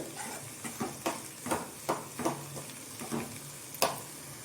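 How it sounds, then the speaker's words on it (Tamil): A snake gourd stir-fry with grated coconut is stirred in a hot pan, with about a dozen rhythmic scraping strokes over a soft, continuous sizzle, close and fairly quiet. "இப்போது தேங்காய் துருவல் சேர்த்து கிண்டி விட்டு ஒரு ரெண்டு நிமிஷம் இருக்கட்டும்"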